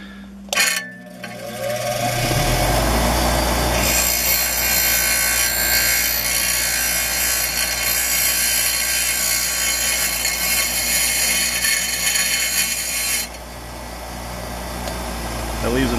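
A bench grinder or angle grinder beveling and cleaning up the cut end of steel threaded rod (all-thread), a loud continuous abrasive whine lasting most of the stretch after a short start, then easing slightly near the end.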